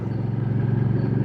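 Hyosung GV650 Aquila motorcycle engine revving, a steady close idle-to-rev drone with a strong low throb and slight rise, alone without voices.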